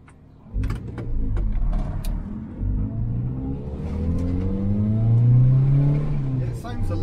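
Small four-cylinder engine of a Zastava Yugo 55A revving and pulling through the gears on an open road, rising tones climbing steadily and loud, with a voice speaking over the engine.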